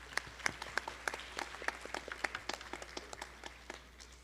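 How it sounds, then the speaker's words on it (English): An audience at an arangetram gives a dancer a short round of light, steady applause, individual claps clearly distinct and moderately distant over a low hum. "Let's give Shriya another round of applause."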